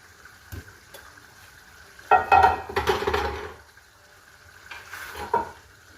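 Potatoes dropped into meat frying in a pot: a quiet simmer, then a sudden burst of sizzling and stirring clatter lasting about a second and a half, and a shorter scrape afterward.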